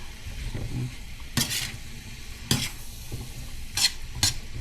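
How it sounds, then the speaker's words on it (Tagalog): Sautéed bitter melon with egg is stirred in a sizzling pan, four distinct scraping strokes of a utensil against the pan over a steady frying hiss, close by and without speech. "At haluin natin ng konti."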